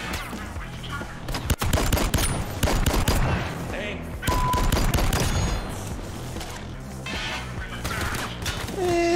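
Rapid gunfire in the VR shooter Gambit VR, dense bursts and repeated shots filling the scene with crashes, loud and continuous with voices mixed in.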